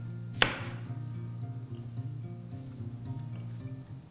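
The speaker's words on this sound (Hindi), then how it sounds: "ये 2 प्याज को भी मोटा मोटा काट रहे हैं" A knife coarsely chops onions, with one sharp close thunk on the board followed by softer faint cuts over a low steady background hum.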